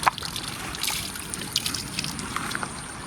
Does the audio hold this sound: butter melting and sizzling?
no